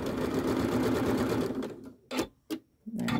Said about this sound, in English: Then around we go.